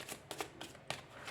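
Tarot cards handled during a reading, a few soft, quick shuffling and tapping sounds, faint and close, with no talking.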